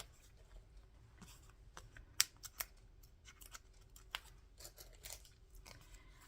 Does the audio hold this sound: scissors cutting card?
yes